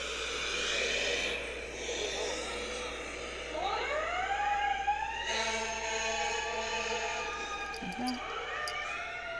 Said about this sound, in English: she has a tape of a ambulance siren, and she plays it